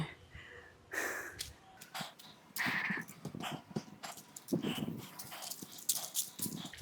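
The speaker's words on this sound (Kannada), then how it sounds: "ನಾಯಿದೆ, ನಾಯಿ ಬಿಟ್ಟರೆ ಯಾರೂ ಇಲ್ಲ" Dog sounds near a temple, short barks and snorts in several bursts spread across the clip, fairly close and moderately loud, with no one talking.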